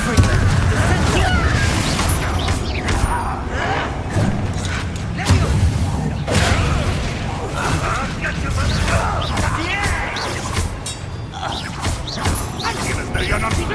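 Confringo fire-blast spell cast in Hogwarts Legacy on PS5, loud booming impacts and crashing thuds amid a chaotic combat mix, with a voice speaking over it.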